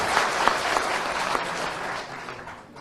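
Audience applauding at a Turkish minister's speech, dense clapping that holds steady then fades slightly toward the close.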